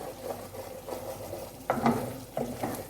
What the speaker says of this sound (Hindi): हमने तब तक इसको हल्की आंच पे या मीडियम फ्लेम के ऊपर भूनना है